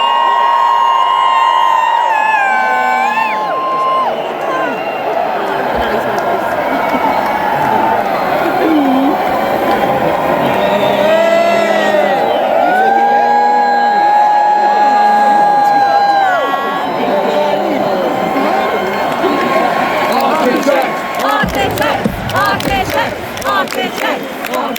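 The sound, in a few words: concert crowd cheering and screaming at arena gig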